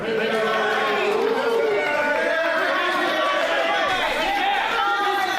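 A wrestling arena crowd reacts to the wrestler Johnny Dynamite with a steady, dense roar of chatter and shouting that holds loud throughout.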